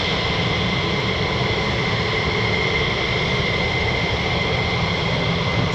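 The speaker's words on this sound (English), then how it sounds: "getting some F-15 takeoffs to start the day through" Steady, loud broadband roar of an F-15 fighter jet taking off at RAF Lakenheath, a continuous rumbling engine wash with no break across the whole stretch.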